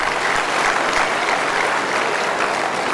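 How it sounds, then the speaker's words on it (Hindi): A seated audience at an Acharyakulam gathering claps loudly and steadily, a dense, even wash of hands throughout with no voices standing out. "एक बार इनके लिए जोरदार तालियां हो जाए भाई"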